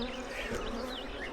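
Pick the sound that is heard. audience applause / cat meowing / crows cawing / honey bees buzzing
honey bees buzzing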